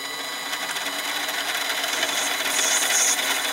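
A mini lathe turns a titanium ring, a steady high, gritty whirring and grinding of the cutting tool against the metal that grows a little louder toward the end, close and continuous with no talk.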